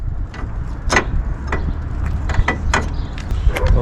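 A ratchet wrench clicks in quick, irregular bursts while loosening 10 mm bolts on the radiator brackets of a 2008 Kia Sedona 3.8L, close and clear over a low background rumble.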